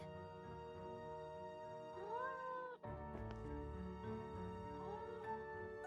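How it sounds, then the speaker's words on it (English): A cat meows twice in the video game Nancy Drew: Mystery of the Seven Keys, a drawn-out, rising mew each time over steady background music. "Is that a cat meowing?"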